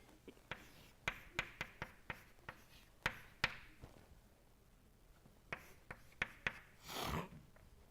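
Chalk or pen taps and scratches out equations during a thermodynamics lecture, in a series of faint, sharp clicks with pauses and a brief rub near the end, with no talking.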